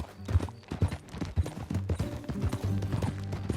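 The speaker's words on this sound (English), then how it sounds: "That a new horse?" Horse hooves clip-clop in a steady riding rhythm, loud and close, with a low rumble underneath, in the open-world game Red Dead Redemption 2.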